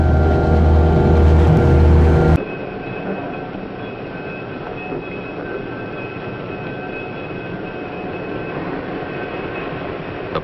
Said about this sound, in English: The train starts off again